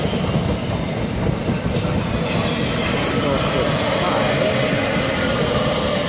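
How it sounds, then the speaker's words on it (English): A Southeastern Class 465 electric unit pulls into Swanscombe station on a Gravesend to London Charing Cross service, giving a loud, continuous rumble and rail clatter close by throughout. "And now arriving is 2 Delta 50, the 1537 Southeastern service from Gravesend to London Charing Cross via Sidcup."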